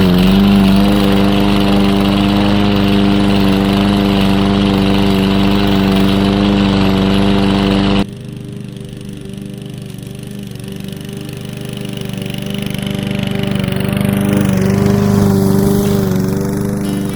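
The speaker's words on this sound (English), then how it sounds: "So I mounted my Osmo action cam on the lawnmower and see how it is working." A PowerSmart 21-inch 170 cc gas walk-behind lawn mower runs steadily and loudly close up, its engine drone holding constant, then dipping briefly and building again as it cuts grass.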